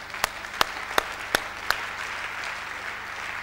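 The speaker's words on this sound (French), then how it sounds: "Est-ce qu'on acclame un peu le Seigneur?" A church congregation claps during a worship service: five sharp, evenly spaced claps ring out close and clear in the first two seconds over a quiet room hum, then stop.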